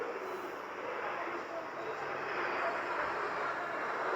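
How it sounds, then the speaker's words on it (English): Four Rafale jets pass overhead in formation at a Republic Day flypast in India, making a continuous broad jet roar that stays fairly even and distant for the whole stretch. "4 Rafale arrow formation में 415 kilometre की रफ्तार के साथ"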